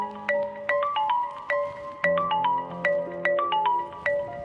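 A melodic electronic phone ringtone plays alone, a repeating pattern of bright tones cycling several times at steady volume.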